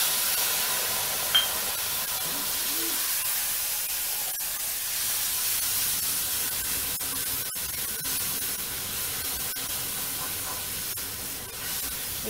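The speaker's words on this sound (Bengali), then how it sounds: "এর মধ্যে আমি আগে টমেটো পিউরিটা ঢেলে দেবো" Tomato puree sizzles in hot oil with curry leaves, green chilli, mustard seeds and shahi jeera, producing a dense, even hiss that runs steadily throughout, with one faint clink near the start.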